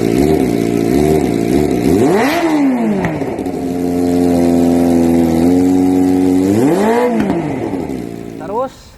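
Kawasaki Ninja ZX25R with a Falcons RC1 underbelly exhaust, revved sharply twice near the mic around a steady high-pitched idle, with a brief blip at the end.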